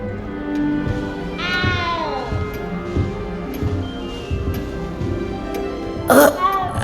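A frightened little cat in Hogwarts Legacy lets out a drawn-out, wavering meow partway through, fairly close, over quiet game ambience with soft footsteps and a brief sharp noise near the end.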